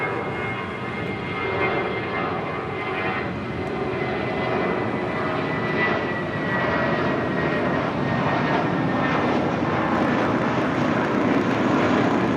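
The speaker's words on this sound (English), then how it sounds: "This is Volaris 923 departing to Zacatecas on Blanquita, the A320." A Volaris Airbus A320 departs Los Angeles International Airport on its takeoff roll, a loud, steady jet engine roar that holds strong and swells slightly toward the end, with no voices over it.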